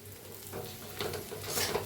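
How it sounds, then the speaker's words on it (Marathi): Okra (bhendi) with garlic masala and coriander stirred in a frying pan, a soft continuous sizzle with faint scraping and spatula movement, quiet and steady throughout. "पुन्हा एकदा भाजीला मिक्स करूया आपण"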